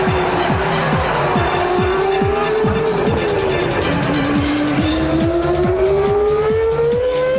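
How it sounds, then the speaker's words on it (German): A 1998-season Formula 1 race car at full throttle, its high engine howl sweeping and shifting pitch continuously, loud and close, with a rapid rhythmic pulsing beneath and no talk. "Fisichella mit Vollgas Richtung Schumacher"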